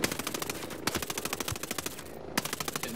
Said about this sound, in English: Didn't think this through with a submachine gun